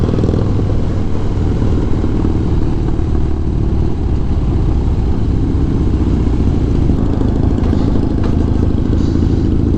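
Loud, close motorcycle exhaust on a street ride in Sacramento, California, rumbling steadily, a deep throbbing engine note that holds throughout with slight rises in revs.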